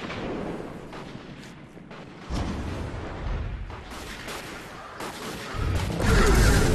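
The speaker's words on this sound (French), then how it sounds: "j'ai usé une grenade pour rien" A grenade explodes in the video game Destiny 2, booming in heavy, low rumbling blasts that swell twice and hang over a constant roar of combat noise, close and loud.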